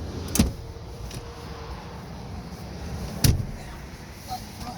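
Opening the third-row seat access in a 2014 Acura MDX gives two sharp mechanical clunks about three seconds apart over a quiet cabin hum, with a faint click near the end.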